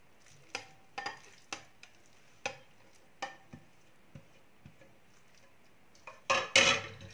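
A spoon knocks and scrapes at spaced intervals while marinated beef strips for fajitas, seasoned with soy sauce, are stirred in a pan, ending in a louder burst of scraping and sizzle.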